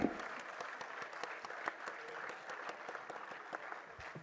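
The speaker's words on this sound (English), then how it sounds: "So let's have a round of applause for him" Audience at a college annual function clapping for a guest singer, fairly faint and scattered, with distinct individual claps standing out over a soft crowd murmur.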